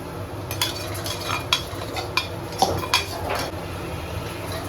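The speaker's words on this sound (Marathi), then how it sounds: "चमच्याने मस्त असं मोठा चमचा मिक्स करायचं." A big spoon stirs masala in a pot, scraping and clinking against the metal in a few sharp, uneven strokes over a faint background sizzle, with no talking.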